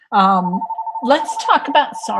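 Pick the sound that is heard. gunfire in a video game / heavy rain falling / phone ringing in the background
phone ringing in the background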